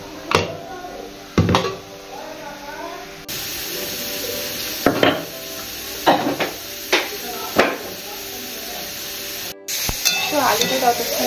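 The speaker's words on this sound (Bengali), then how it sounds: "তো আলুটা ততক্ষণে এটা ভাজা হোক" Potatoes sizzle while frying in a pan under a steady hiss, broken by several sharp knocks and scrapes of utensils against the pan at irregular intervals, close and moderately loud.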